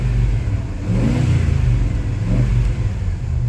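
A car engine with an unidentified noise under acceleration hums and revs steadily under load, a continuous mid-pitched drone with slight surges, no voices over it.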